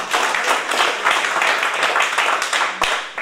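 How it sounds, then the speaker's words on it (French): Steady applause from an audience, dense and continuous, with a brief lull near the end before it picks up again. "On peut l'applaudir."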